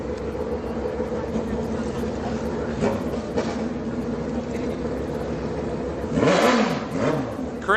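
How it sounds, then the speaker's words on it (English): Two motorcycles launch at a street drag night, a steady engine drone building into a loud, close rev and acceleration near the end, with crowd and engine noise throughout. "Here comes two bikes."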